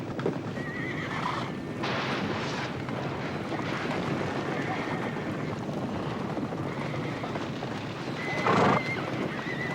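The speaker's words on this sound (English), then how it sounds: "you've got to get rid of those horses once and for all" Horses on a ranch neigh loudly and repeatedly while hooves clop in the background, close and continuous, with one sharp whinny standing out near the end.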